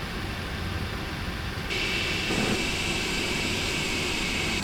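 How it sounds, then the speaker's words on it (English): Distant roar of a Ryanair jet taking off in a flight simulator game, a steady broadband rush that swells slightly partway through, with no voices. "Ryanair taking off there."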